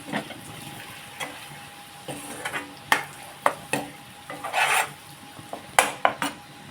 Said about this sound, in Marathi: मालवणी मसाले तुमच्या तिखटाप्रमाणे घाला हे चांगले परतले मसाले